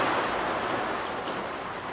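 Steady rain falling outside an off-grid cabin in the woods, a continuous even hiss heard alone without voices, fairly close and moderately loud throughout.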